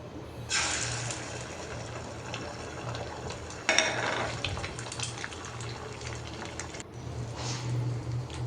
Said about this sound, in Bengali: ডিম গুলিয়ে নিচ্ছি